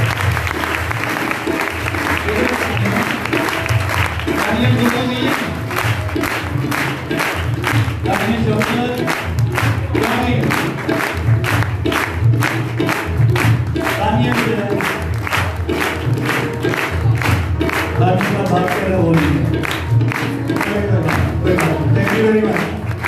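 An audience at a healing prayer meeting bursts into applause, a dense and even clapping that runs on for many seconds, loud and close.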